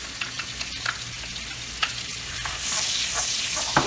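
Minced onion sautéing in about three tablespoons of melted butter in a pan, a steady close sizzle with occasional scrapes and stirs, swelling louder toward the end.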